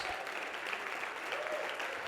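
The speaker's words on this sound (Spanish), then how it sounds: "que se escuchen esas palmas" A church congregation claps during a sermon, a faint, steady wash of applause heard from a distance with no clear voices on top.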